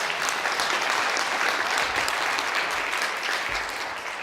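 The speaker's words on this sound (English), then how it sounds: "can you guys give him a round of applause first and foremost" Steady applause from an audience at a Palomar College keynote, dense and sustained clapping from many hands throughout, slightly easing toward the end, with no voices on top.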